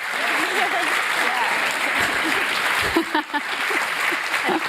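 Audience applause at an Opera House panel on Iran, steady, dense clapping from a large crowd that holds throughout, with a brief dip near the end and faint voices mixed in.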